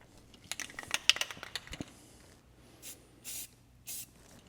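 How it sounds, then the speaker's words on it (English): Spray paint hisses onto a freshly welded 2x72 belt grinder stand in short bursts, first a cluster of quick sprays, then three separate longer blasts, close and fairly quiet. "now we're painting it"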